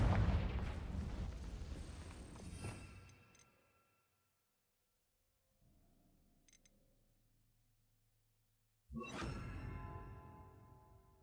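Confringo fire spell blasts in Hogwarts Legacy: a loud burst of crackling, booming fire that fades into silence and a low hum, then a second loud blast erupts near the end.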